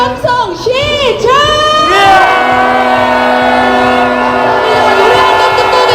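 A street protest crowd marching through Myeongdong in Seoul lets out a loud, sustained roar of shouting and cheering, with whistles and rising and falling voices swelling into a dense continuous cheer.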